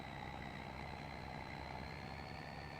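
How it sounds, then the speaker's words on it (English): An old diesel engine runs at a steady idle on a ploughing farm, a continuous low grumble with faint rattle, close and unbroken with no voices. "I could sleep to the sound of this engine running. I really could. It's quite soothing. An old diesel engine."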